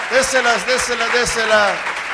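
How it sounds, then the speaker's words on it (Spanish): Church congregation applauding at the end of a sermon, steady clapping throughout the short span under a preacher's loud voice. "Dele las palmas porque aquí terminamos."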